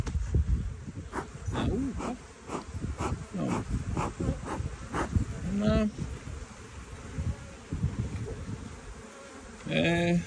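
Honeybees buzzing around an opened hive, a dense close hum with individual bees whining past the microphone, while someone talks over it.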